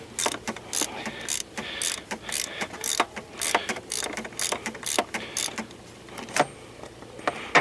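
Special tool turning and loosening the oil filter cap on a 2004 Chevrolet Malibu Classic ECOTEC engine: a quick series of close, sharp ratcheting clicks and scrapes in irregular bursts, fairly loud with no talk.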